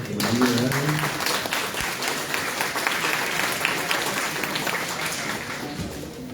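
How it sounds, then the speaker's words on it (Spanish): An audience at a conference on the Peruvian and global economy applauds its speakers, a broad, continuous patter of clapping that starts over a voice and slowly tapers off. "Un aplauso para ellos, por favor."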